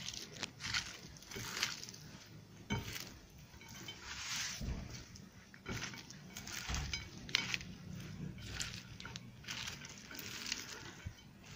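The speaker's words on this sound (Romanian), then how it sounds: "Și acum punem și morcovul aici. Amestecăm un pic legumele." Carrot and vegetables being stirred together for a mussel salad, giving a steady, close run of soft crunching, clinking and scraping with irregular louder knocks, with no voices.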